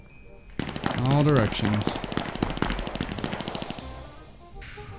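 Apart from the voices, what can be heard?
gunfire in the video game Cuisine Royale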